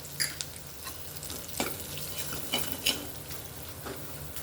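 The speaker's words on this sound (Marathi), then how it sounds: "अशी ही फोडणी परतून घ्यायची" Spoon stirring a phodni tempering of goda masala and red chilli powder in a pan for aloo fatfat, a traditional colocasia-leaf curry; soft sizzle with scraping strokes and occasional clinks, close and steady, no talk.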